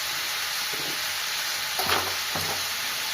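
Tomato chutney with turmeric and salt is stirred in a hot pan. A constant hissing sizzle carries two short scraping strokes of the spoon near the end, and no one speaks.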